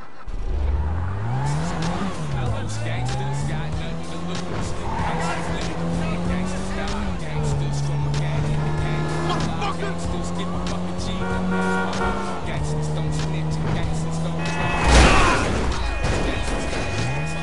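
A car driven in GTA 5 Online, its engine droning steadily and rising and falling in pitch through gear changes, with a loud burst near the end, under someone talking.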